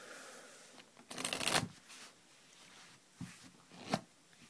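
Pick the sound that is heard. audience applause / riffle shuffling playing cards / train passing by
riffle shuffling playing cards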